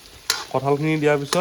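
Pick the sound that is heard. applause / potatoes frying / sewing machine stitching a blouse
potatoes frying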